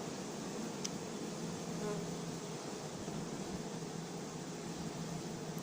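Honeybees buzz at a hive being set up on a farm in Saint-Mery, beside a wheat field. A faint, steady hum of many insects continues without a break.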